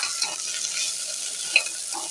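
Vegetables and potatoes sizzle in ghee in a pan for a five-vegetable paneer kurma. A brief, even frying hiss carries a few soft stirring clicks, with no talking.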